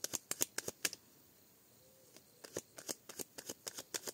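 Deck of cards being shuffled and cut, quick bursts of crisp riffling clicks, a quiet pause, then another run of sharp flicks, close and clear.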